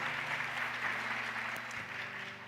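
Applause from a church audience at Wangseong Church, a steady, moderate patter of clapping over a faint low hum, tapering slightly toward the end.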